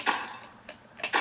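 Glass shatters in the Happy Wheels video game: a bright, crashing burst, a softer tinkle in the middle, then a second loud burst of breaking glass at the end, with no voices.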